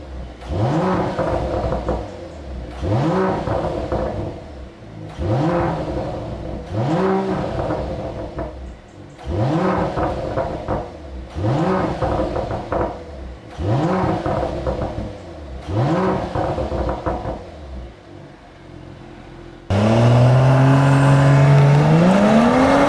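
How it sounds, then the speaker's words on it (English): A Mercedes-AMG GLE 53 engine revs hard again and again in rising, throaty bursts, about eight loud sweeps, ending in a sustained high roar. "I cannot let you go away without hearing some lovely AMG exhaust note."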